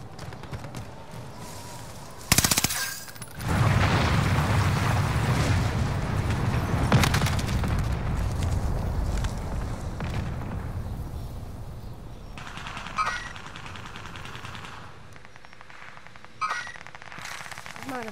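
Rapid assault rifle fire in the Call of Duty video game rattles in a long continuous burst with a sharp start, then thins into scattered shots and distant gunfire over a quieter stretch.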